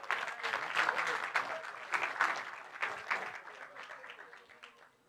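Audience clapping at a graduation ceremony, a burst of many hands that is fairly close and dense at first, then gradually thins and fades into scattered claps.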